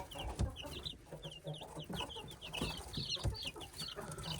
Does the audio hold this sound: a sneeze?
no